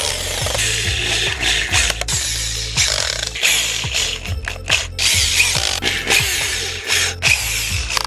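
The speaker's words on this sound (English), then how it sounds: "and then Dan is going to put some screws into these little things that they put in the factory." A power driver sets screws into small wooden plates on a scrapwood war-hammer, with repeated loud whirring bursts and ratcheting clicks, several in quick succession, close up.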